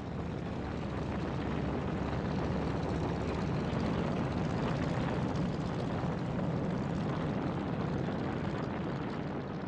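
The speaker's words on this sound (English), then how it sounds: "The first plane to roll down Isley Field's runway was Dauntless Dottie" A World War II bomber at Isley Field on Saipan, lined up for a bombing mission, fills the scene with a steady, loud roar of propeller engines that holds at constant strength throughout, as on a takeoff roll.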